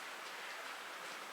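Rain falling on a tin roof outside a custom car shop, a continuous faint hiss of many small impacts, steady and unbroken throughout.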